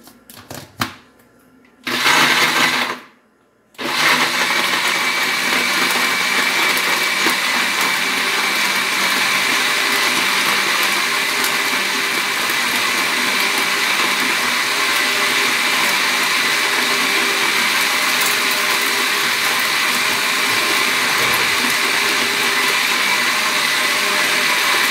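An electric blender whirs through lemons and water for Swiss lemonade, opening with a couple of short bursts and then settling into a loud, steady, continuous grind that runs to the end with no voices.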